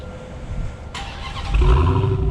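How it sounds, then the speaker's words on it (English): An 800 hp supercharged Dodge Hellcat's engine fires up with a sharp burst, then settles into a loud, deep rumble with a rising whine, close and alone. "you're going to hear that supercharger like crazy"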